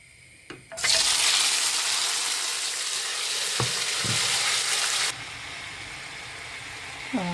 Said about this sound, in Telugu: మొత్తం అన్ని టమాటాలని కట్ చేసుకొని ముక్కలన్నీ తీసుకెళ్ళి మనం ఆయిల్లో వేయాలి.